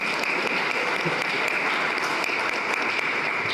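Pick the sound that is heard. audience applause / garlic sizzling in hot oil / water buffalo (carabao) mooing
audience applause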